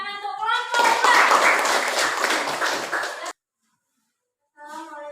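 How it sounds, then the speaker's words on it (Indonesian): Applause and clapping for a student group presentation in a classroom, a dense burst of hands lasting about three seconds between spoken greetings, then cutting off abruptly before talk resumes. "Beri tepuk tangan untuk kelompok 4."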